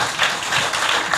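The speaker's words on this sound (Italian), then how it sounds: "facciamo un applauso." Audience applause for a poet at a Sicilian poetry event: a short, steady burst of many hands clapping at close range, with no talking over it.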